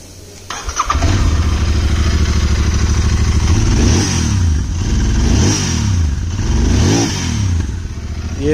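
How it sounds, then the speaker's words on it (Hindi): A 2019 Royal Enfield Interceptor 650 parallel-twin starts and revs, its exhaust note rumbling loud and close, rising and falling through several throttle blips over a steady idle. "सबसे पहले ओल्ड वाली का एग्जॉस्ट नोट आप लोग सुन लो भाई,"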